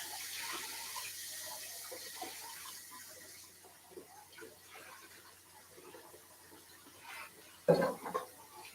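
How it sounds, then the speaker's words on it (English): Water from a kitchen tap runs steadily while something is rinsed out during flatbread making, ending with a brief louder splash near the close; a voice talks quietly underneath. "So just rinsing this out."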